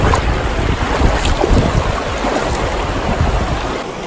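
Knee-deep wading across a river crossing on the route between Mudgee and Orange: continuous sloshing and splashing water close to the microphone, mixed with heavy wind buffeting throughout.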